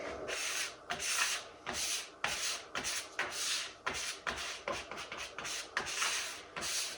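Epoxy is scraped across a silver maple river table in repeated rough strokes, a rhythmic rasping that swells and breaks off about a dozen times, close and fairly loud.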